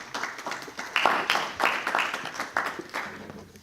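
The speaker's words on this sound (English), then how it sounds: "Please give a round of applause to Ms. Patricia Limon Rodriguez." Audience applause at a live get-out-the-vote community event in Houston, a steady wash of clapping from a crowd with irregular swells, moderately loud and without speech.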